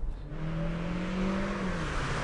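A 2013 Mazda CX-5 engine revs up with a rising, throaty drone that climbs in pitch and holds, loud and close.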